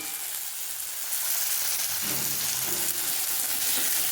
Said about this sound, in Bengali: টমেটো কুচিটা একটু নেড়ে ছেড়ে নেবো